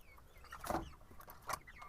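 Broiler chickens clucking at a poultry sale in Margilan, giving two short bursts near 0.7 and 1.5 seconds over a low, steady background murmur.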